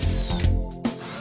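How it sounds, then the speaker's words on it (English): A power drill with a twist bit bores a slanting hole in wood for a concealed screw joint using a wolfcraft Undercover Jig, a steady close whine that shifts pitch as it cuts and then stops abruptly. "Simply drill,"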